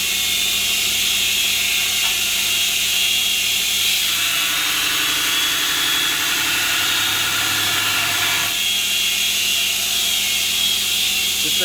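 A homemade 2x72 belt grinder runs with a steady motor drone and belt hiss, its pitch and tone shifting midway as quarter-inch metal is pressed against the belt and ground; no speech.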